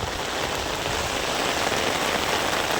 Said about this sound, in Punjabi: ਬਹੁਤ ਤੇਜ਼ ਮੀਂਹ ਪਈ ਜਾਂਦਾ